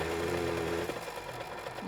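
Gas-powered auger drill of poor quality running in the 7 Days To Die game, a steady buzzing motor drone that shifts pitch slightly partway through, close and continuous with no talk.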